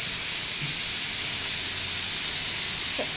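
A pressure cooker on a kitchen stove lets out a loud, continuous steam hiss that stays steady and unbroken from start to finish.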